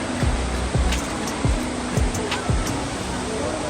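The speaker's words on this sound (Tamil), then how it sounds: "அந்த அருவி தண்ணி விழுகிற சத்தம்" Water from Kovai Kutralam falls pours in a steady, dense broadband roar, with a few low thumps spaced through it and no voices.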